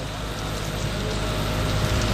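Steady rain falls without a break, a dense even hiss at moderate level, with no voices.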